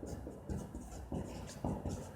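Pen scratching across paper in a classroom, a steady rustling scrawl with short bursts and pauses, close and fairly quiet, with no talk over it.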